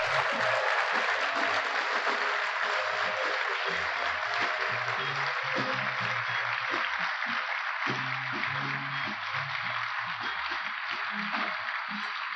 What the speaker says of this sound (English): Now, let's hear some applause.